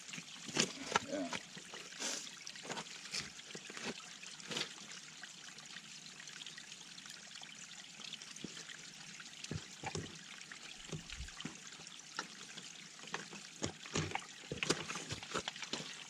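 Water trickling and dribbling down rocks along the Appalachian Trail, a continuous bright splashing stream with scattered sharper drips and splashes; a voice is heard faintly at times over it.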